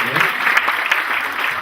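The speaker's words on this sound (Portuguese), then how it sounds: "Palmas para os 5 que vieram" A lecture audience on coaching and mentoring claps, a steady broadband patter of many hands, moderately loud and continuous throughout.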